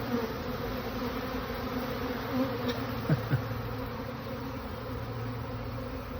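Honey bees swarm around a swarm trap, a steady, dense buzzing hum that carries throughout, with a few louder individual bees passing close by.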